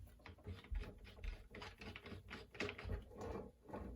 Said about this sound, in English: this is actually pulling the crank off right now